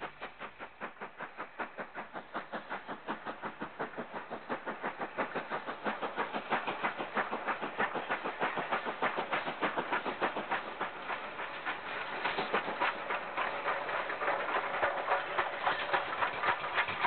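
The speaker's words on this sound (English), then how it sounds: "The engine is seen here at Daniel's Mill with a train for Bridge North on the Severn Valley Railway." A railway engine hauling a train on the Severn Valley Railway near Daniel's Mill, heading for Bridgnorth. Steady rhythmic clatter of wheels and exhaust runs throughout, close and loud, with no talking.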